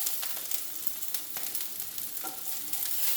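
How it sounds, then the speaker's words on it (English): Bhindi (okra) frying together with masala in a pan, a steady soft sizzle with faint crackles and occasional stirring, heard close. "Add the bhindis here back. So both will fry together for 2 minutes."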